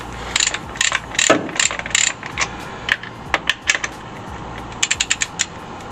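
A socket ratchet undoing a 13 mm bolt on a Ford Fiesta ST180 torque mount: bursts of sharp, close clicking from the pawl, several quick runs separated by brief pauses and a metallic clunk midway.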